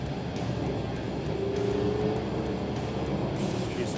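A 2014 Audi Q5 TDI Quattro diesel engine runs at full throttle, heard from inside the cabin as a steady, muted low drone mixed with road and wind noise.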